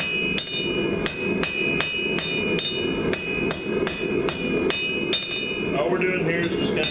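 Hammer blows ring out on steel on an anvil while a fire poker tip is dressed, about a dozen evenly spaced sharp metallic strikes, close and loud, ending with a brief scrape.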